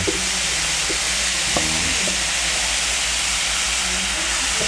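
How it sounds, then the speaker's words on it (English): Chicken thighs in a teriyaki marinade sizzle on an electric grill as a steady, loud broadband hiss, with a few faint clinks and low hums underneath. "teriyaki marinated chicken. I'm going to place it on there to cook."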